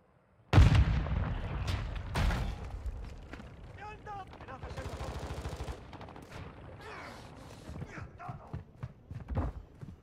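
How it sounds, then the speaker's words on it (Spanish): Grenade explosion in the video game Warzone 2: a sudden loud boom near the start, followed by a rumbling tail, scattered gunfire and game voice callouts. "Lanzando granada."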